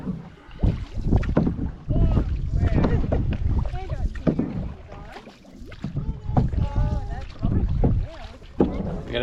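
Headwind buffets the microphone during an evening canoe paddle on Slocan Lake, a loud, gusty roar that rises and falls continuously, with voices talking over it.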